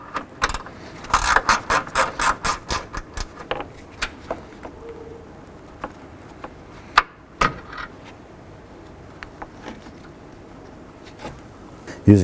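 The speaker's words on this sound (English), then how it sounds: "Now we're going to go ahead and remove the bolts for the AC condenser brackets here." Bolts on the AC condenser brackets of a 2007–2011 Honda Civic being removed with a ratchet, a quick run of close clicking pawl strokes followed by scattered single clicks and clunks.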